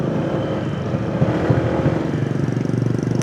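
A motorcycle engine runs steadily up close, with a continuous low rumble and a regular pulsing throb at a nature camp in Montalban, alone with no talk.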